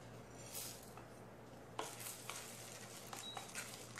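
Urad dal and spices dry-roast in a pan over medium heat for puliyodharai spice powder. A spoon scrapes and stirs them steadily in faint, close, gritty strokes with a light rustle and occasional clinks, and no talk.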